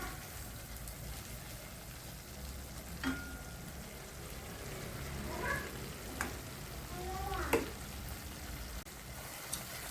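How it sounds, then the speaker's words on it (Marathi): Masala paste fries in butter for paneer kofta curry, a soft continuous sizzle with a few scraping stirs of a spoon in the pan. "वाटण परतून घ्यायचे चांगलं."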